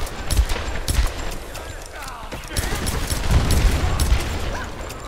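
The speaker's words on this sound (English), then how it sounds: "Machine gun. Oh, stop it shooting me." Rapid machine gun fire from Tomb Raider 2013, sounding as dense, continuous bursts of shots with booming low thuds throughout, loud and close, with no speech.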